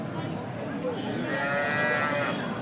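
Cattle low and moo amid the steady crowd murmur of a Monday livestock market held at KG Temple, with one drawn-out call rising over the busy background noise.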